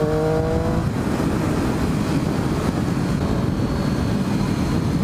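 A Triumph Daytona 675 sport bike engine rising in pitch as the throttle rolls on, then settling into a loud, close roar blended with heavy wind noise.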